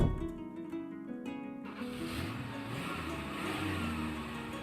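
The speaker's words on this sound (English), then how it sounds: "He drives off." A car engine starts and revs up as the vehicle pulls away, a steady mid-pitched rumble following a brief tonal sound at the start, at moderate volume with no talk.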